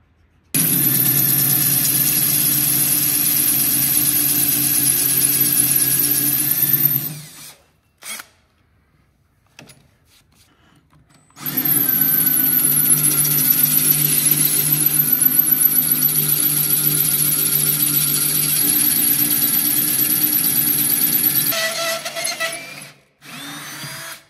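A power drill bores into a hardened steel blade with a loud, steady high-pitched whine, stopping briefly a few times, then running long again before winding down.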